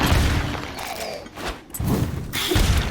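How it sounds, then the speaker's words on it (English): Explosions from grenades in the video game Dysmantle, loud and dense, with heavy thumping booms and mechanical clatter packed across a few seconds and no talking. "the grenade seems to be doing quite something"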